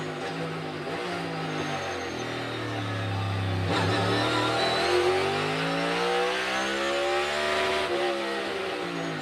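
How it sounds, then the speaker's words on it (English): Kyle Busch's NASCAR race car at the 2022 EchoPark Automotive Grand Prix revs hard through the gears, its engine note repeatedly climbing and dropping with each shift, heard at moderate distance with no talk. "You can hear Kyle Busch really wringing that gearbox out"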